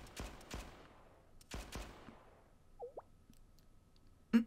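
Gunfire in the Blue Archive video game: a few sharp, separated shots with decaying tails, then a short whoosh and a final close crack.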